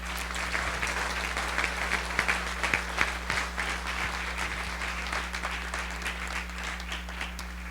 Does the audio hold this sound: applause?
yes